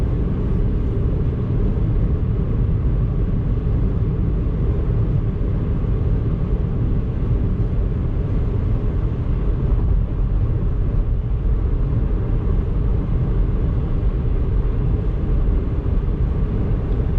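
A Tesla Model 3 cruising on the highway under Autopilot, heard from inside as a steady, loud low road rumble and tire drone that holds constant throughout.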